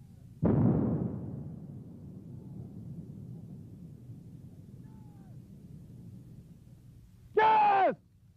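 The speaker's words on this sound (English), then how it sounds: "The rocket drags the line charge over the minefield, and it is detonated once it strikes the ground." A mine-clearing line charge detonates over a minefield in the Persian Gulf War, one sharp loud blast that rolls off into a long, low, fading rumble, followed near the end by a brief separate burst.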